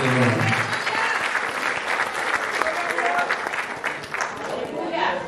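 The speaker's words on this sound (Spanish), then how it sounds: "Give a hand clap to the Lord." Applause from a church congregation during a bilingual Spanish and English sermon, a dense, loud wash of clapping that lasts the whole stretch, close and full, with a faint voice under it.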